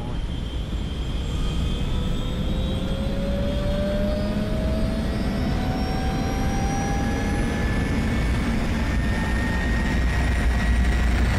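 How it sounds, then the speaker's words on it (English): Airliner jet engines spool up during takeoff in the film Red Eye, a loud continuous roar with rising whining tones heard steadily from inside the cabin. "Ladies and gentlemen, we've been cleared for takeoff."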